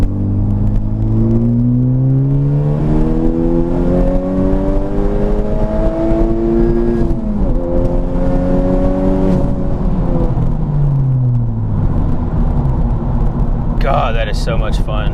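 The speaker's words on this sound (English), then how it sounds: "we'll get us the third gear wide open throttle pull" A Honda Civic Type R FK8 in third gear at full throttle, its engine note climbing steadily in pitch through a long pull with a shift-like dip midway, heard from inside the car with a person speaking over it.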